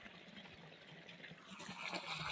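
Irrigation water gushing steadily out of a farm pipe after a valve is opened, a moderately close, continuous rushing flow that swells slightly toward the end, with no talk.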